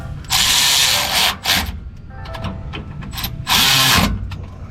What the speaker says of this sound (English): we're going to tighten all these down to 15 foot-pounds